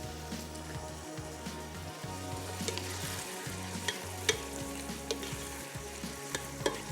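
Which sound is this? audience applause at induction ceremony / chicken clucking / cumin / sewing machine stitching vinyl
cumin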